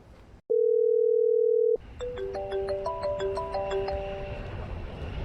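A steady telephone tone holds for over a second, then a phone rings out with a repeating melodic ringtone of stepped electronic notes over faint room noise while a call is placed.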